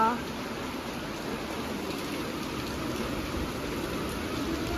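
Heavy rain pouring steadily outdoors, a dense, even wash of noise that holds at a constant level throughout, close and continuous with no breaks.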